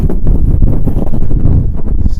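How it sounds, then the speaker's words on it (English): Strong gusts of wind batter a Hilleberg Nallo 2 two-person tent pitched on Eldon Hill, a loud, blustery roar buffeting the microphone continuously from start to finish. "it's really, really windy"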